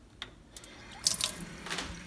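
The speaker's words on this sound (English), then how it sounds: "turn the water on" Water from a kitchen sink faucet beside a garbage disposal, starting with light splashes and building into a steady close-up hiss of running water into the basin.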